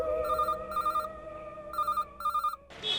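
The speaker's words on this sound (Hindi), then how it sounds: "सेठ जी का फोन है।" A telephone bell rings in repeated double bursts, loud and close, with a steady electronic tone sustained underneath and a brief different chime at the end; no voices.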